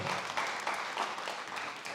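A church congregation claps in praise, a brief burst of steady, moderately loud applause filling the room.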